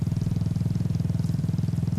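A motorcycle engine on a highway at night, a steady low throbbing drone with fast regular pulses, loud and close, held evenly throughout.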